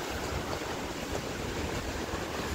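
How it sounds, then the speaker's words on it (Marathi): Sea water surging against the stone walls of an old coastal fort: a dense, continuous roar of waves and wash, loud and steady throughout, with no voices. "समुद्राचं पाणी अगदी गडाला लागतंय"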